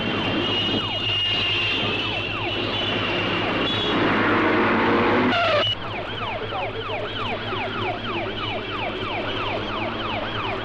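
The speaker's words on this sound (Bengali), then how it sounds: "অ্যাম্বুলেন্সের সাইরেন শুনতে পাননি?" An ambulance siren wails in fast, repeating rising and falling sweeps over a dense, loud background roar, steady and close throughout with no speech.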